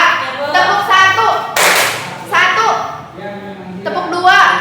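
One sharp hand clap in a classroom lesson, a single bright burst in the middle of a teacher and children talking nearby.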